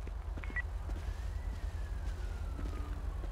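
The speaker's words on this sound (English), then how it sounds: "What was that siren I just heard?" An emergency vehicle siren wails faintly in the distance outdoors, a thin rising and falling tone over a low background rumble.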